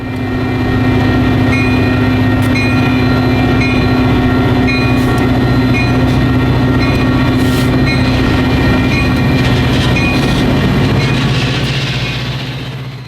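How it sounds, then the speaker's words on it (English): A passenger train rolls into the Des Plaines, Illinois station with a steady loud rumble and hum, faint rhythmic clicking of wheels over the track, gradually easing as it slows. "In this scene, the train is arriving at the Des Plaines, Illinois train station."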